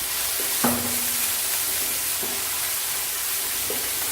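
Ginger garlic paste and cumin seeds sizzle in hot oil in a pan with browned onion, a steady bright frying hiss with a few soft clinks of a spoon stirring, no voices.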